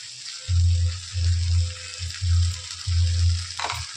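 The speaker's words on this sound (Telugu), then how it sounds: "ఇది ఆయిల్లోనే మగ్గుతుంది కదా, ఇంకా మగ్గిపోతుంది" Tomatoes with chili powder and turmeric fry in oil, a constant hissing sizzle broken by four rhythmic bursts of stirring scrapes, loud and close.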